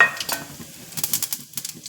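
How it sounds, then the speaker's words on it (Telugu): Tempering spices for rasam crackle and sizzle in hot oil in short, uneven bursts, with faint stirring and clinks of a pan; no voices. "నూనె వేడెక్కింది దినుసులు వేసేద్దాం"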